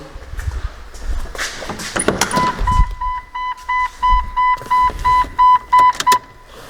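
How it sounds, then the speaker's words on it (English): The ignition key is turned on in a Jeep Cherokee during LS swap wiring work: a close click and clunks, then a regular run of electronic warning chimes pulsing at an even pace. "Turn the ignition on."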